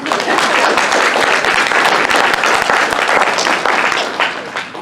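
Dense, steady applause from a festival audience at a teen book panel, loud and continuous throughout with a slight tapering near the end.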